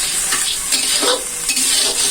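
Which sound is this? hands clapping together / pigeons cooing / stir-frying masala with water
stir-frying masala with water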